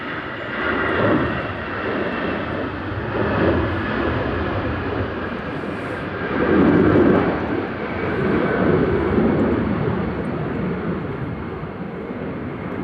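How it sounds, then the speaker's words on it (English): An Aer Lingus UK Airbus A330-300 on short final approach into a gusty Manchester Airport, its engines a steady broadband roar that swells slightly midway and stays loud and close throughout. "Aer Lingus UK on short final now with flight 34 from Orlando."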